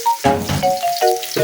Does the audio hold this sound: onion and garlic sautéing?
yes